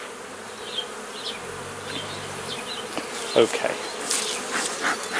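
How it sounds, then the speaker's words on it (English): Honeybees buzzing around an open hive colony during a routine inspection, a steady close drone with individual bees whining past, and a brief spoken word partway through. "there's a lot of bees almost to the edge of the colony"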